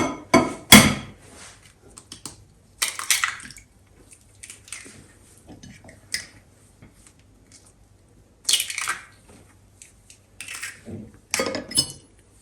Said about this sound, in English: You crack in 2 eggs